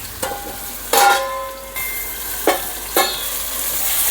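Mango pickle cooks in a pan, giving a steady soft sizzle broken by a few sharp stirring scrapes and clinks, close and alone.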